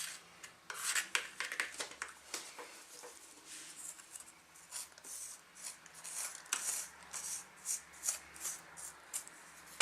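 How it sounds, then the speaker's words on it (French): Fresh, still-wet cement on a fire base is scraped and smoothed, giving a steady series of gritty rasping strokes, close and fairly soft, with irregular rhythm and no talk over it. "maintenant on va le gratter, parce que le ciment est encore frais"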